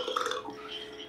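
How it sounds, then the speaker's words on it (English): A burp, apparently after eating watermelon and pizza, sounds as one close, fairly loud eructation with a slightly wet, drawn-out tone, and no talk over it. "Hot burp."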